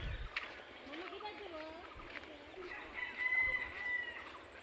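Village birds calling in the afternoon, with a rooster crowing and chickens clucking among other bird calls, moderately close, while a person talks over them.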